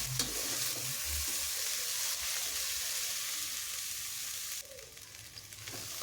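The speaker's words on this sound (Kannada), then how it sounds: "ಈಗ ಆಲೂಗಡ್ಡೆ ಬದನೆಕಾಯನ್ನು ಸೇರಿಸ್ಕೊತಾ ಇದ್ದೀನಿ. ಇದನ್ನು ಒಂದು 2 ಸೆಕೆಂಡ್ ಫ್ರೈ ಮಾಡ್ಕೊಳ್ಳೋಣ" Potato and brinjal pieces fry in a pan for horse gram sambar, a steady sizzle with a few low knocks early on that thins out near the end.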